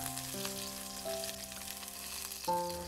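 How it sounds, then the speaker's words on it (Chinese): Ginger slices and scallion segments stir-fry in hot oil in a wok with a soft, continuous sizzle, accompanied by sustained musical tones in the background. "往锅中倒入一些食用油，油烧热以后先放入姜片和葱段"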